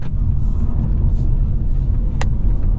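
Inside a 2023 Nissan Leaf electric car accelerating hard, a loud, steady low road and tire rumble fills the cabin, with one brief sharp tick near the end.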